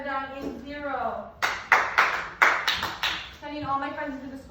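A class of children performs a school clap, a short run of sharp, loud hand claps in an irregular rhythm, framed by a teacher's voice talking before and after.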